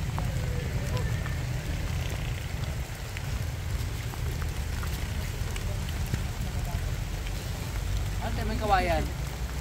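Heavy rain pours down steadily as a dense, constant hiss that fills the whole clip, with people talking over it throughout.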